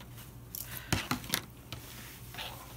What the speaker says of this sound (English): I have these ties, and let's just go ahead and cut them.